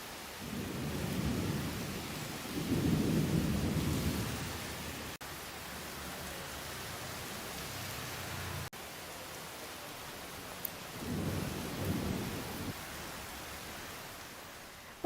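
Heavy rain falls on flooded Pune streets as thunder rolls in long, deep rumbles, several swelling and fading over the steady wash of rain, heard alone without voices.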